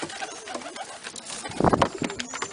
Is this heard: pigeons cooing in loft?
yes